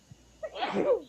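A person sneezes once, sharp and close, with a brief intake of breath just before the burst.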